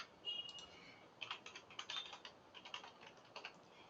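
Quick, light typing on a computer keyboard, a short burst of faint close clicks in an uneven rhythm, with no voices.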